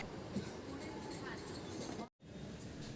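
Onboard rumble of a Mumbai local train heading toward the Gateway of India, a steady broadband roar with faint rail clatter, briefly cut by a short gap of silence.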